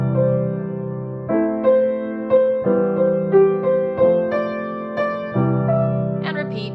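Piano plays a simple melody over sustained minor-key chords, each new chord struck about every second and a half while the right hand picks out single notes above, clear and alone.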